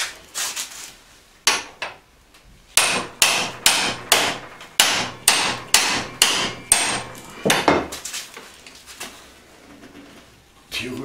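Hammer blows struck on a stuck, seized part of a 1999 T-Rex 50 model, a steady series of about a dozen loud sharp metallic strikes in quick rhythm, close and alone.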